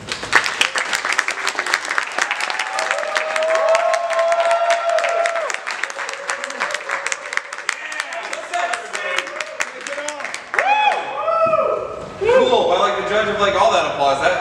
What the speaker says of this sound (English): All that applause, that could not have been for me.